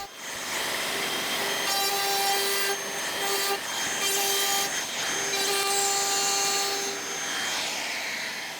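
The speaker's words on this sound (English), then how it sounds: "I use my handheld router to make small slots where the biscuit can go in" A handheld router cuts biscuit slots into wooden boards in a home workshop, with several short, loud whining passes and brief dips between cuts, and no talking.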